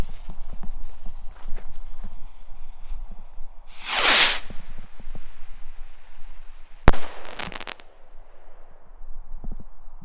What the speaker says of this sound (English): Demon Rocket by Yorgi,